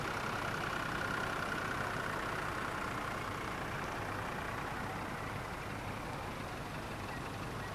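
Vintage tractor engines running steadily at a May rally parade as the machines are motored slowly into the ring, a continuous broad mechanical rumble with no talk.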